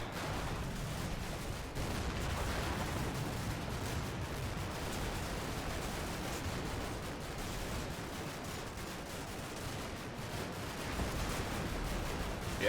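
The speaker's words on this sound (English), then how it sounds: "So this is all getting shot up here." Dense, continuous battlefield gunfire and distant artillery rumble roll on without pause in the wargame Combat Mission: Blood on the Snow, a thick, muffled wall of shots heard from afar.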